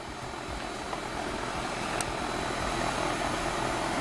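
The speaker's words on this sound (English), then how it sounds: "Compressor motor" An air conditioner compressor motor runs during annual maintenance, producing a steady low droning hum with a rough, pulsing texture, loud and close, holding constant through the brief stretch with no speech.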